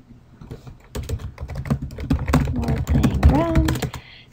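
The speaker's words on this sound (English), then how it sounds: "So if I type in a number like this, 110" Close, steady clatter of typing on a computer keyboard as a number is entered in MATLAB, with quick irregular keystrokes and a voice talking over part of it.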